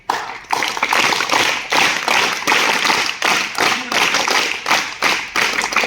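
Primary school children clap loudly in unison, a steady run of rhythmic group claps with evenly spaced bursts and no talking over them.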